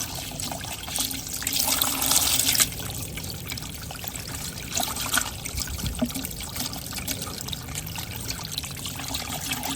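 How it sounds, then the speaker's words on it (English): Water poured down a PVC downspout riser pipe in a yard drainage setup, a continuous trickling and splashing flow that is stronger at first, then steadies into a quieter running stream. "let's run some water through the top of this and simulate if it was raining"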